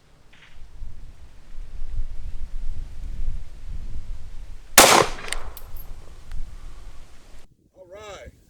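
Gunfire with Speer Gold Dot self-defense rounds fired into a clear ballistics gel block outdoors, one sharp loud shot cracking out midway over a low rumbling background, with a short whistling tail at the end.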